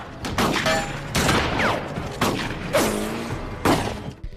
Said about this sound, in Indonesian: di sini terjadi baku tembak yang seru antara tim Grit dan tim Malden